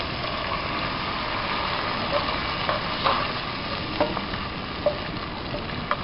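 Fish molee being stirred in a pan after thin coconut milk is poured over sautéed onion, tomato and green chilli, a steady low bubbling hiss with occasional soft clinks of the spoon against the pan.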